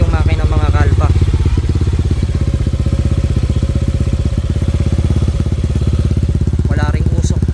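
A Honda Click 125 scooter, bored out to 160cc, idles up close with a loud, even, rapid thumping pulse and light mechanical clatter, while a voice cuts in briefly.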